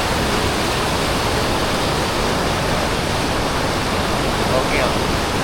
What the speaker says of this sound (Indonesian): Mari kita lanjutkan menyeberangi sungai yang deras ini